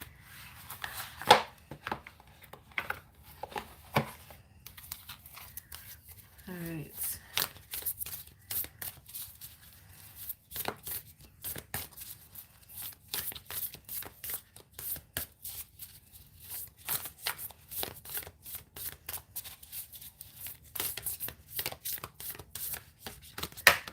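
Playing cards are shuffled over and over, with dense riffling bursts and soft slaps running steadily through the whole stretch at close range; a faint voice is briefly heard.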